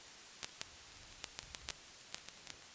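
Synthesized vinyl crackle plays as soft, even static hiss broken by irregular crisp pops and ticks, faint and alone with no voices.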